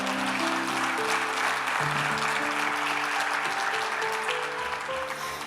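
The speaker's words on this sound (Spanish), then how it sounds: "Dale un aplauso al Señor." Church congregation applauding during a Spanish-language Christian service, a sustained, loud wash of clapping with steady musical tones, likely organ or keyboard, running underneath the whole time.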